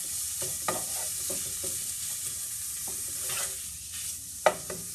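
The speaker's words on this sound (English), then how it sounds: "I have it on a medium high because I want the bacon to really crisp up." Bacon sizzles steadily in a pan on medium-high heat with onion, a constant crackling hiss broken by a few sharp pops and stirring scrapes, close and alone without talk.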